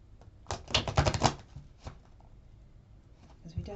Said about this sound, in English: We'll just give these cards a shuffle first.